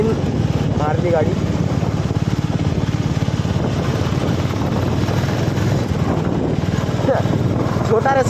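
A motorcycle rides along a forest track, its engine droning steadily and close, leaning hard through a curve at roughly 60 degrees, with a brief rise in engine pitch near the start and end.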